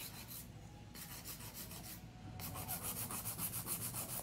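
Steady scraping rasp of a hand nail file worked back and forth across fingernails during a nail salon full set, continuous close rubbing strokes with a brief lull near the middle, no voices.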